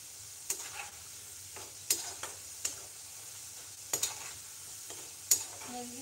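Potato finger fries deep frying in hot oil, a steady soft bubbling sizzle with occasional louder crackles and spatters, close and alone with no talk.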